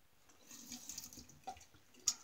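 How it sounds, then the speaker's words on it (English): Water is dribbled into a small Stirling tub of Campfire-scented shaving soap, a faint, brief trickle with a few soft drips and a sharper splash near the end, close by with no talking. "Get a little more water in the soap here."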